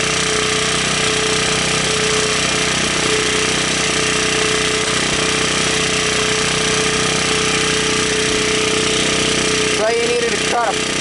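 A small, cheap portable generator engine runs in cold weather, a loud, steady drone close by with a brief disturbance near the end.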